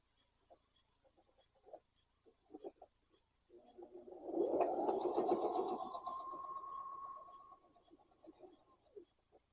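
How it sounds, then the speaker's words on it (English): A sewing machine runs a steady top stitch along the card slot of a handmade fabric wallet, preceded by a few soft clicks and taps, then a close, continuous motor whir that lasts several seconds before stopping. "now we're going to top stitch along the top of that"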